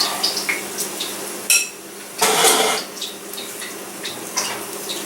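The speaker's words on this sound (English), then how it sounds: "So as you can hear, they're sizzling away" Two pieces of fish frying in a pan outdoors, a steady hiss of sizzling oil with occasional clinks and scrapes of a utensil against the pan, close and fairly loud with no talking.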